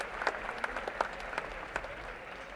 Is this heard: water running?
no